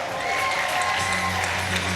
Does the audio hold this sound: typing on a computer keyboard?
no